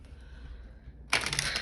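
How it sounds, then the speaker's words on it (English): Tarot cards are shuffled in a burst that starts after about a second of quiet room tone, a dense papery riffle that runs loud and close to the end. "I'm gonna do one more shuffle."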